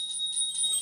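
Hand bell rung during a Hindu puja lamp offering, giving a steady bright metallic ringing with sustained high tones, loud and close, heard alone without voices.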